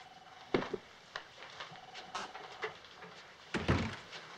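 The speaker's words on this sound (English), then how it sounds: "Close the door." An office door swings shut with a wooden thunk, followed by a second thud a few seconds later, heard up close in a quiet room with faint movement between the impacts.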